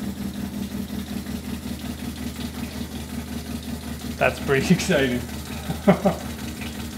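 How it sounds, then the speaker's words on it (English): An RV water pump runs in an off-grid rainwater collection setup, a steady low mechanical hum with a fast regular pulse throughout, while someone speaks briefly near the end. "that's the sound of a RV pump, I'm assuming"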